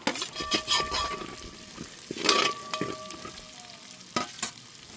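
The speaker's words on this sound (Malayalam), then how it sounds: "സബോളയും ക്യാപ്സിക്കനൊക്കെ ഒന്ന് വാടിയിട്ട്" Onions and capsicum sizzle in a hot pan while a utensil stirs and scrapes, with intermittent louder scrapes over the steady frying hiss.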